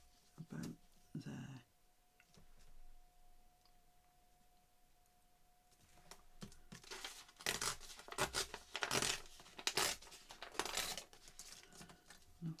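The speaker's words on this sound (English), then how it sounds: "So I'm going to tear it" Paper torn by hand for a mixed media board, a few short rips early on, then a busier stretch of tearing and crinkling bursts, close and fairly quiet.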